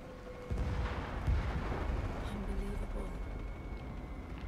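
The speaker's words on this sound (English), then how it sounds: "Oh, they're doing the explosions." Explosions rumble in Shadow of the Tomb Raider, a deep booming onset followed by sustained low rumbling and debris noise, with a person talking over it.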